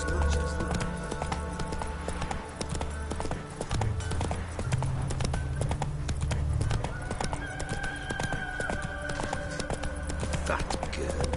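Horse hooves clip-clop at a steady gallop across a Witcher III game world, running continuously under ambient music with a brief whinny and some background voice.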